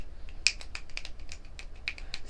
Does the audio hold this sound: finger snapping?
yes